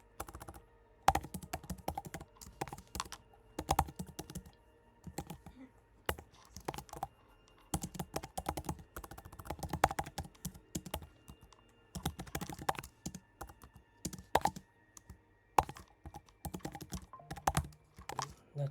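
Code is typed on a computer keyboard in irregular bursts of quick, close clicks and key taps with short pauses between runs; the typing is fairly quiet.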